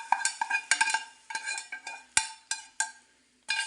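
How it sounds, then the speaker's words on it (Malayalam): A spoon stirs Sadhya-style mango pickle with oil, mustard seeds and curry leaves, giving a string of sharp clinks and scrapes against the vessel in an uneven rhythm, close and clear with short pauses between strokes. "എണ്ണയും കടുകും കറിവേപ്പിലയും എല്ലാം കൂടെ നമുക്ക് നന്നായിട്ടൊന്ന് ഇളക്കി യോജിപ്പിക്കാം."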